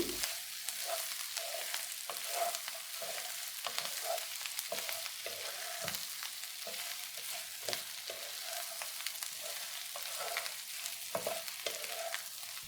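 Chicken roast (chicken varuval) fries in a pan with a continuous close sizzle, broken by regular scraping strokes as it is stirred, and no voices.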